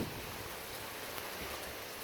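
Wind-driven rain during a thunderstorm, a steady dense hiss of drops hitting surfaces close by, faint and constant with no voices.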